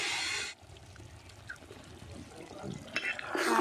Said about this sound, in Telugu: ఇప్పుడు ఈ పైన ఉన్న వాటర్ పోసి మంచిగా ఉడికించుకున్నాం